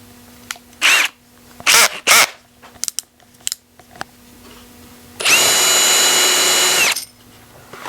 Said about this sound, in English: Going to do the same thing and use my chamfer bit here.